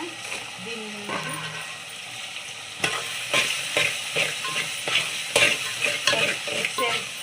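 Chicken biryani being stirred and mixed in a frying pan, a steady sizzle with repeated scraping, clattering strokes of a spoon in an uneven rhythm, close up; a person speaks briefly at the start.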